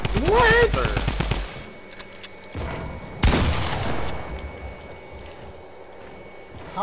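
SMG gunfire in a video game, with a loud rapid burst at the start, a brief pause, then a second burst with lighter trailing shots.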